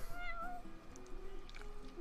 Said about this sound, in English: You're one spoiled cat.